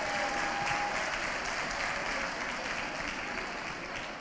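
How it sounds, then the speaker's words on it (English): An audience at a Silvermines Strictly winners announcement gives a sustained round of applause, a steady wash of many hands clapping that holds at an even level for the whole stretch and eases off slightly at the end. "I'd like everybody just to give him a round of applause"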